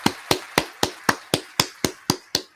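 Ten sharp hand claps in a steady, evenly spaced rhythm, close and crisp, each with a quick decay, with nothing else around them.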